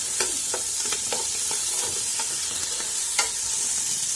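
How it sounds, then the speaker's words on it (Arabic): Onions, cardamom and mixed vegetables sauté in a hot pan, giving a steady loud sizzle with repeated stirring scrapes and clicks. "هنشوح بقى كده كل المكونات الخضار ده مع بعض"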